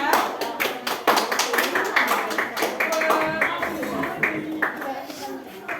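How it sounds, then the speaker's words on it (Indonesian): A classroom of students clapping for group 2 in a 12th-grade Qur'anic exegesis lesson, a steady patter of hand claps with scattered chatter and voices mixed in throughout. "kita kasih tepuk tangan untuk kelompok 2"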